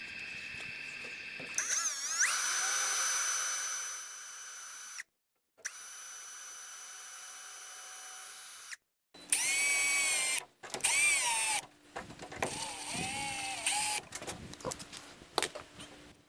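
A power drill bores into the wooden gunwale of an old canoe being rebuilt, with loud sustained whining runs separated by short pauses and a few brief stuttering bursts near the end.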